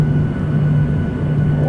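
Airplane engines roaring steadily as a passenger plane lifts off, a loud continuous low rumble with a droning hum heard from inside the cabin.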